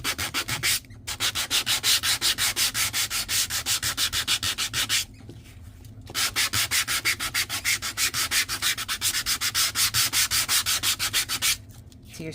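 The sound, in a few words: nail file sanding the edge of cardstock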